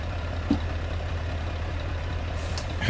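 A Scania R580 truck engine idles in Euro Truck Simulator, a steady low rumble that runs continuously and stays close and fairly loud, with a brief click near the start and a hiss toward the end.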